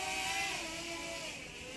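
A Xintianyu F525 RC helicopter motor whines in a steady, high-pitched tone for a short burst, holding level then easing slightly as the throttle punch fades.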